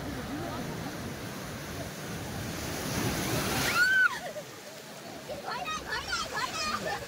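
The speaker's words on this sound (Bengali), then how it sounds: "নদীর ঢেউ দেখো বন্ধুরা" Sea surf rolls in at Digha beach, a steady broadband roar of breaking waves that swells loudest around the middle, with voices faintly audible over the wash near the end.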